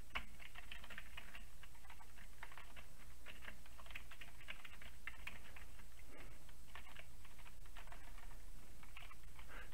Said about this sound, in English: I'm always a klutz on the keyboard, especially if I'm looking at what I'm typing.